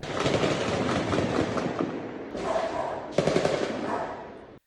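Rapid bursts of gunfire from a shootout aimed at a fleeing vehicle crackle continuously, with brief gaps between volleys, sharp and distant-sounding in the open air.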